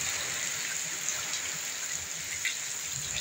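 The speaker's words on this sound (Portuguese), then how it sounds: "Do nada, pessoal, do nada também começou a chover, né?" Rain falling on a rural property, a steady close hiss of drops on surfaces with faint gusty rumble beneath, no voices.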